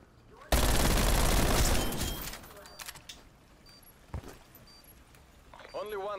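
A MAC-10 submachine gun in a first-person shooter game fires a loud, sustained burst lasting over a second, then goes quiet apart from scattered clicks, a single sharp report and a voice at the end.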